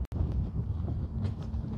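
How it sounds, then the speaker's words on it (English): Wind buffets the microphone in a low, steady rumble with a brief dropout near the start; no voices are heard. "Oh, it's windy."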